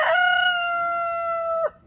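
A rooster crows nearby, one long loud cock-a-doodle-doo held steady before breaking off, followed by brief quiet, in the morning.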